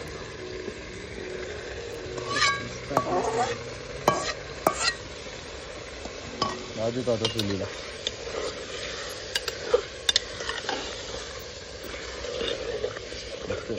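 A spoon stirs dal vadi cooking in a pressure cooker over a wood-fired chulha, a bubbling simmer under scattered scrapes and clinks of utensil on metal, with a few words of talk in the background.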